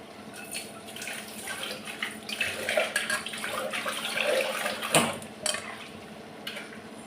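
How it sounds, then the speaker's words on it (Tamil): Water splashes and runs in a kitchen sink while vegetables are washed, a faint, uneven trickle with scattered clinks of pots and utensils and a sharper knock partway through. "தண்ணி போட்டு கழுவிட்டு"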